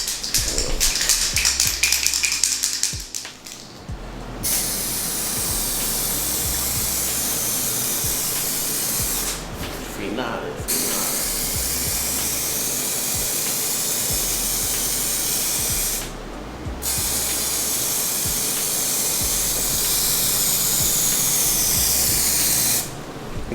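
Clear coat sprayed onto carbon fiber car parts in light passes, a steady close hiss running almost continuously with a few brief breaks between passes and no talk over it.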